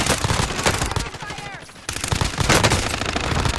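Dense, loud automatic gunfire fills a Warzone firefight, continuous bursts pausing briefly before resuming at full intensity, with voices faintly underneath.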